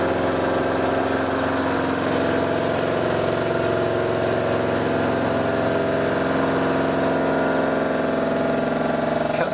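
A mini lathe converted for milling drives a 12mm cutter through a cut in a steady, loud mechanical drone with a constant hum and faint grinding vibration throughout.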